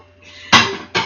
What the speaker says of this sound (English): Sorry about the banging and clashing.